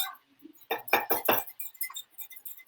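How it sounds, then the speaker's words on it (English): Homemade salad dressing of olive oil and vinegar is stirred in a glass container, giving a quick run of bright clinks and taps, close and clear, with short pauses between strokes. "stirring everything as we go to get the emulsification going"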